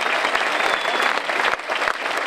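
Applause from a theatre audience after a stage performance, a dense, steady patter of many hands held at an even level for a couple of seconds with no voice over it.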